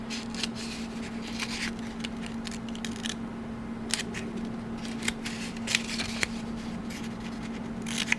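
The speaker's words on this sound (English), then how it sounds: "for the long flaps, I'm going to cut the little corners off." Scissors snip the small corners off the long flaps of a handmade paper candy box slider, giving a steady run of quiet crisp cuts and rustling paper, close and solo.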